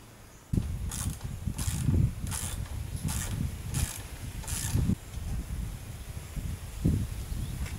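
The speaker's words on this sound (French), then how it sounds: "je vais commencer par démonter la selle" Regular mechanical clicks and rattling bursts, roughly one every second, as the seat is taken off a Suzuki 1200 Bandit motorcycle at close range.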